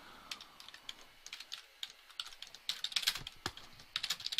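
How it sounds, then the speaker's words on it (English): Rapid, uneven clicking of computer keyboard keys, with bursts of close keystrokes and short pauses in between, typed alone with no talking. "I'm typing to Sean."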